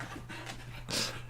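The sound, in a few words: dog panting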